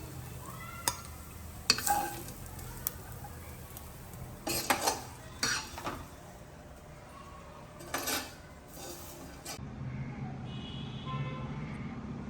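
Spoon scraping and clinking in a bowl of ivy gourd sesame curry, a few sharp knocks and scrapes spaced irregularly, close by, with faint background hum and no talk.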